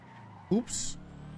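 In a GTA roleplay game, a supercharged car engine gives a short, loud rev, followed by a high tire screech that lasts under half a second. The engine hum then continues underneath.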